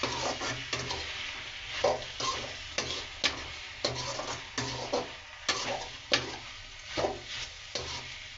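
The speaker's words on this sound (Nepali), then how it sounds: "मजाले चलाउने यसलाई। मसला पुरै तरकारीमा लागोस्।" A potato and chichinda curry is stirred in a cooking pan, the spoon scraping in repeated rhythmic strokes over a soft sizzle, close and clear, with no voices.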